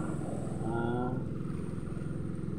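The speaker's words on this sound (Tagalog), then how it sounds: "Maraming makina ngayon." Engines of fishing boats off Mercedes, Camarines Norte, a steady droning motor rumble with a brief rising whine, continuous and fairly close.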